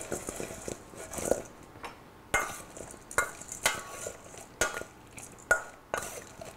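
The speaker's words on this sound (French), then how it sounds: "Et on mélange de façon à bien enrober les morceaux de pommes d'amandes hachées." Apple pieces are tossed with chopped almonds in a large bowl, giving a series of distinct clinking, scraping strokes about once a second, close and fairly crisp, with no talking.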